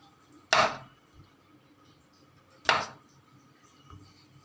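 Two sharp knife chops slice through washed pointed gourds on a board, a couple of seconds apart, followed by a fainter third tap in a quiet room.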